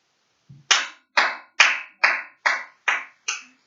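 Seven sharp hand claps land evenly at about 120 beats per minute, close and crisp with silence between each, after a faint soft thump at the start.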